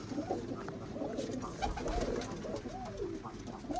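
Pigeons coo repeatedly in soft, throaty rolls against a low background rumble, several calls overlapping at moderate distance, birds sitting wet after rain.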